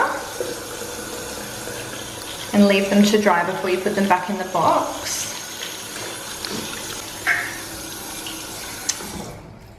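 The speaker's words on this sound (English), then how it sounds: "we just give them a rinse under cool water" Cool tap water runs as reusable facial pads are rinsed, a gushing splash that rises midway and fades out, heard under continuous speech.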